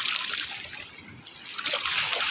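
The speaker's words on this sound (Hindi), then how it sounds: "इतने तेज चल रहा है पानी" Fast-flowing river in Srinagar, Uttarakhand, rushing loudly and steadily with bright splashing and sloshing close by, no voices over it.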